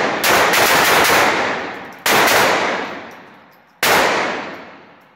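Three sharp, loud pistol shots from a Ruger SR22 on a firing range, fired roughly two seconds apart. Each crack is followed by a long, slowly fading ring and echo, with no talking in between.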